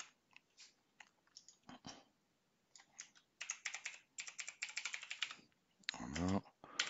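Typing on a computer keyboard while building a cascading dropdown list in PowerApps: bursts of quick, close clicking keystrokes, sparse at first and then denser, with brief pauses between runs.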